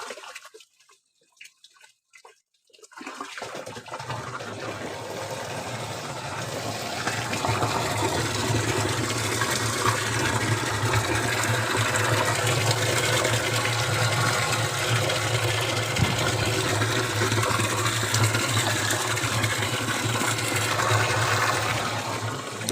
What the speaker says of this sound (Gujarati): પાણીથી ભરીએ હવે.